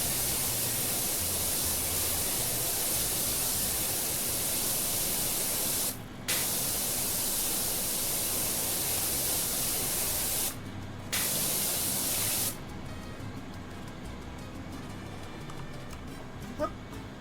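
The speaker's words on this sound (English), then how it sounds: "I think I may not have effectively sprayed soap into that particular crevasse up there." Pressure washer spraying soap in the PowerWash Simulator 2 video game, a steady loud hiss that runs almost continuously, broken by a few brief pauses before turning slightly quieter.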